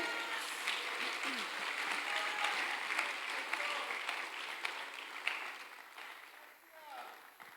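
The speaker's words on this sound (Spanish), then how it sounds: "Denle un aplauso al Señor." A church congregation claps for the Lord during a pastor's sermon, sustained mid-distance applause with a few voices mixed in, tapering off near the end.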